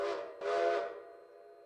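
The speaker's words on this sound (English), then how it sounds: "Go toot of the whistle as well." Two steam locomotive whistle toots in the RailRoader railway simulation game, a short blast followed by a longer, louder one that fades out, heard alone and close.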